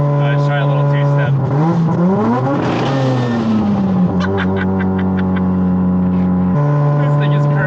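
Turbocharged 460 hp Mazda RX-7 rotary engine held on two-step launch control, a loud, steady buzzing drone with crackling pops and a few pitch sweeps as revs hold and shift, close up inside the car.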